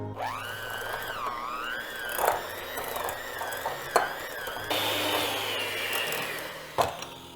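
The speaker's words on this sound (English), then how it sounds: "soften it with our hand mixer" A hand mixer beating softened cream cheese in a bowl, a steady whirring motor whose pitch wavers as the beaters work, with occasional knocks against the bowl, close by.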